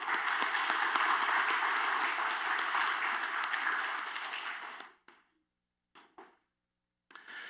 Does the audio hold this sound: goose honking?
no